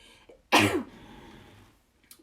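A single sharp sneeze bursts out close by, preceded by a faint inhale and followed by quiet breathing.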